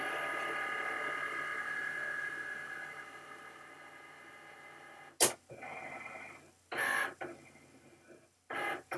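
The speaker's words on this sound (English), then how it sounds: "And the Cricut is going to cut that little square in the middle." A Cricut cutting machine cuts a small square, giving a steady mechanical whir and buzz for several seconds, then a sharp click followed by short bursts of motor movement and ratcheting clicks.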